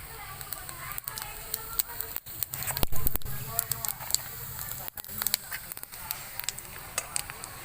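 Panch phoron spices sizzle in hot oil for a Murshidabad-style jiol fish curry, a soft continuous crackle with sharp popping bursts scattered throughout, loudest around the middle.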